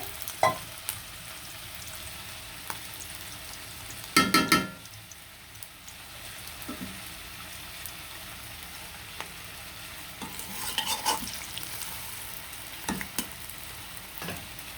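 An egg frying in a pan, soft steady sizzle underneath with occasional sharp clinks and scrapes of a utensil against the pan, a louder cluster of knocks early on and scattered taps later, no voices.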